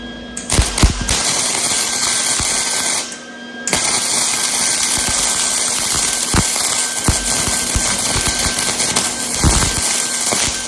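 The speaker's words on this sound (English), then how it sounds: "I'm gonna weld a washer here." A washer is welded onto a lawn mower deck spindle to fix a broken bolt, giving a loud, continuous crackling buzz with sharp pops and spatter, broken by a short pause, with occasional clanks of metal nearby.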